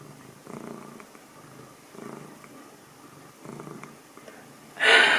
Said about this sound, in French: Fais de la ronron thérapie.